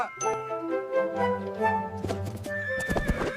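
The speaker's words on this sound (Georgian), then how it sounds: "ცხენი" A horse whinnies loudly and close by, a long shaky neigh that rises and falls, with a few hoof clops near the end.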